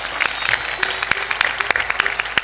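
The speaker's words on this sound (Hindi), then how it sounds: "थोड़ा जोर से ताली बजाया करो" An audience at a religious discourse claps loudly and continuously, a dense, close patter with a few sharper individual claps standing out.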